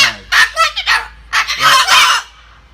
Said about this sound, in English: this is what relaxing with a parrot on your front is really like